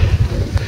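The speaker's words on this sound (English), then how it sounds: "The wind's getting up now" Wind gusting across open moorland at a wild camp on Dartmoor near Great Links Tor, a steady low roar buffeting the microphone with brief surges, no one speaking.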